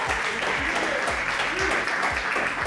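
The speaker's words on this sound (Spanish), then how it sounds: "Grill y Patti Cantú, claro que sí, un aplauso." A studio audience gives steady, dense applause throughout, loud and close, with a voice speaking faintly beneath.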